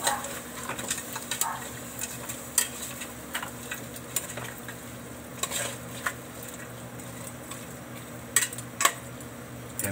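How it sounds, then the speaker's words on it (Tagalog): Native chicken adobo stirred in a cooking pot, with soft scraping and clinking of a utensil against metal over a faint simmering sizzle, irregular light knocks throughout. "Haluin muna natin ito"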